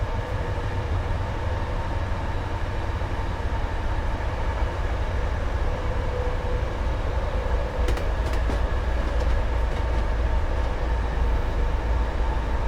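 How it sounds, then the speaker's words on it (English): An MBTA HSP46 locomotive in Train Sim World rumbles with a steady, loud diesel drone and a low engine hum, joined by a few faint clicks partway through. "I do love the sounds on the HSP46."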